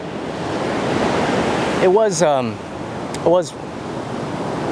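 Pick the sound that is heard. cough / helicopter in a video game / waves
waves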